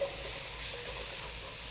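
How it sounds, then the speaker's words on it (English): Crawfish etouffee with flour and tomato sauce sizzling and frying in a pot, a steady close hiss with no talking. "Got a good sizzle."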